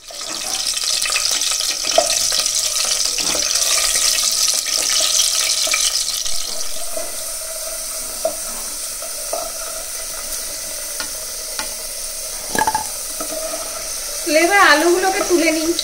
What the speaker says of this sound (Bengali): ফার্স্ট টাইমে আলুগুলোকে হালকা ফ্রাই করে নিব